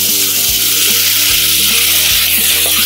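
Spiced masala sizzles loudly and steadily in a pan, a close, dense hiss with no break in it and a low hum running underneath.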